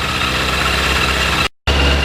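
A small carbureted engine idles steadily nearby in cold weather, a continuous low rumble with a faint vibrating buzz, briefly cut off by a moment of silence before resuming.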